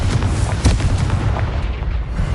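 Confringo spell blasts in the Hogwarts Legacy video game: a dense run of loud, booming, rumbling explosions layered over each other without a pause, close and heavy throughout, no voices.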